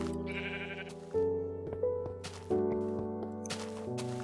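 Sheep bleating in Minecraft, several loud close bleats in a row over steady background music, with no talk.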